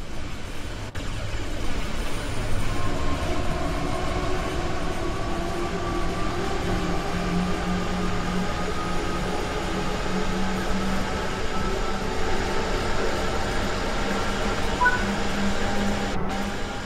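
A train in the video game Train Sim World 3, on the Rhein-Ruhr Osten route, rumbles steadily along the tracks with a low mechanical drone and rising and falling motor tones, continuous and fairly loud throughout, with no voices.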